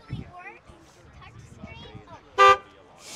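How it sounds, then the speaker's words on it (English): A Ford Foxbody Mustang blares one short, loud horn blast near the end, at a car build unveiling. People chatter close by throughout, and a hiss follows the honk. "Honk the horn, honk the horn."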